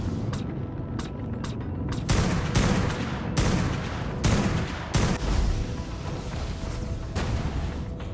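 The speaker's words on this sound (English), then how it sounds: "Keep shooting, keep shooting." A Tek railgun in ARK: Genesis fires again and again, each heavy booming blast landing every second or so over a constant rumbling backdrop, loud and close.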